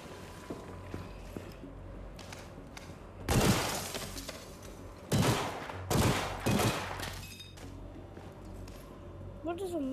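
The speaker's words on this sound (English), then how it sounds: "Oh, Tommy gun." A Tommy gun fires in a video game in several loud, close bursts of rapid shots, separated by short pauses, with quieter game sounds and a voice in between.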